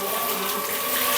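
Steady rushing water pouring from a hose pipe, continuous and fairly loud, with a voice faintly in the background.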